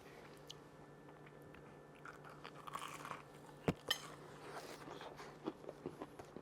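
Crisp fried chicken is bitten and chewed close up, giving a sharp crunch followed by a series of softer crackling chews, with no talking.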